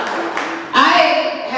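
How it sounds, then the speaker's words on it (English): An audience at an Anna's House gathering breaks into applause, a dense burst of clapping that swells halfway through and carries on with voices mixed in. "Please give yourselves a round of applause for just being here."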